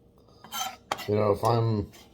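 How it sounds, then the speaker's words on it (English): A knife scrapes food off a cutting board and knocks it into a bowl, two short metallic scraping strokes followed by a ringing clink, close and alone. "I'm scraping it onto the knife, holding it, making sure not to cut myself, and using that to put it in the bowl"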